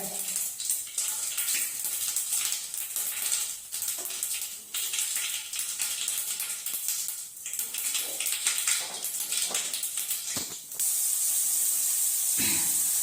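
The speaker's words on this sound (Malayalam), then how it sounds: "ഈ കടുക് പൊട്ടുമ്പോഴുള്ള ശബ്ദം എനിക്ക് ഭയങ്കര ഇഷ്ടമാണ് കേട്ടോ" Hot oil sizzles and hisses steadily as seeds crackle and pop in quick bursts, close by, with no talking.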